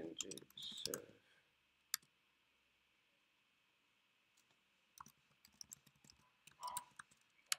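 A command typed on a MacBook keyboard, quick faint key clicks in short bursts with a lone tap between, over a soft steady hum, with brief speech at the start.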